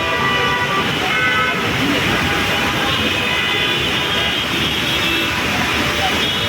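A Dhaka road jammed with traffic during heavy rain and stormy wind: a dense, continuous wash of rain, engines and scattered horn toots, loud and close throughout, with voices talking faintly underneath.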